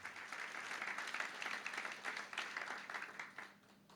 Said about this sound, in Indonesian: Tepuk tangan yang benar. Yang benar, yang benar, yang kenceng.